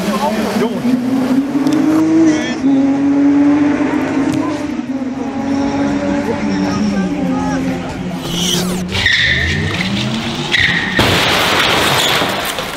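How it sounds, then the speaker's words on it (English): A Porsche 911 on a race course skids with locked brakes, tires squealing loud and close as the engine whines, then a sudden crash into a concrete barrier and burst of impact noise near the end. "brakes appeared to lock up and the car went straight into the concrete barrier, sending the 911 through the air and right into the water beside the course"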